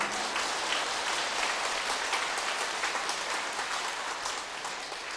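A church audience at a Lenten lecture breaks into sustained, dense applause that fills the room, steady throughout and slowly tapering toward the end, with no talking over it.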